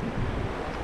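Sea waves wash and rush around a small fishing boat on open water, a brief steady roar of surf mixed with wind buffeting the microphone.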